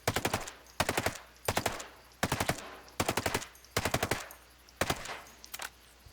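Assault rifle fire from the video game Ghost Recon Breakpoint, loud close bursts of rapid automatic shots repeating eight times with brief pauses between, no voices.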